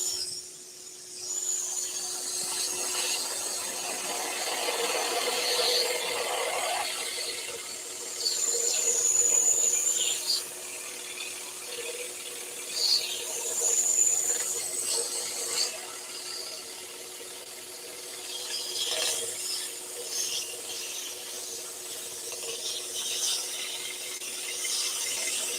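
A scroll saw cutting the leg of a wooden fox puzzle, producing a continuous buzzing, rasping cut that swells and eases as the workpiece is turned, close and fairly loud.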